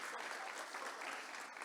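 A church congregation applauds in a steady, even patter of many hands clapping, moderately distant and sustained throughout, with no speech over it.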